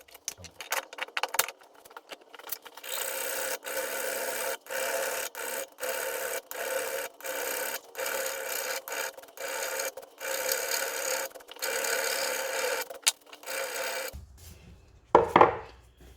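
A file rasps against metal in steady back-and-forth strokes, close up and rhythmic, pausing briefly between passes, ending with a few clinks, filing a surface flat to fit a grease nipple.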